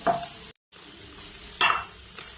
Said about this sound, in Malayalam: അതിലേക്ക് ഇനി അടുത്തതായിട്ട് ക്യാരറ്റ് ഇട്ട് കൊടുക്കാം ചെറിയ പീസ് വെച്ച് കട്ട് ചെയ്തിട്ടുണ്ട് അതൊന്ന് വഴന്ന് വന്നാൽ